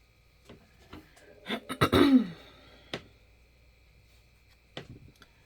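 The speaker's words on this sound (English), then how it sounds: "I keep clearing my throat" A woman with a lingering cold clears her throat in a quiet room, a couple of short rough rasps clustered together with a few faint clicks and small sounds around them.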